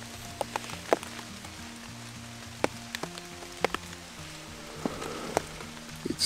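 Steady autumn rain falls on a wet camp bivouac, a dense continuous patter with scattered louder drips striking a surface nearby, heard alone without voices.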